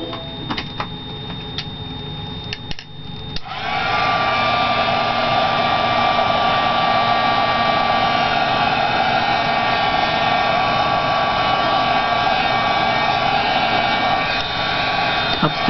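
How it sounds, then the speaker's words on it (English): A battered old Marvy heat gun drying layered craft paint on a dragonfly piece blows with a steady, loud roar and high whine from about three seconds on, after a few quieter clicks and bumps. "My messed up old Marvy heating gun is just the best I've ever had."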